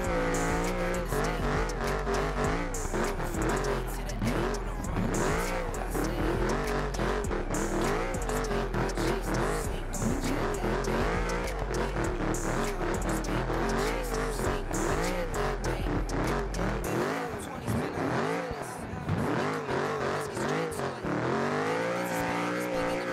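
A totaled C6 Corvette rebuilt as a drift car with a big cam, its engine screaming near 8,000 rpm in sustained loud revving with rapid pitch swings and tire squeal, then a sharp drop-off and renewed revving near the end.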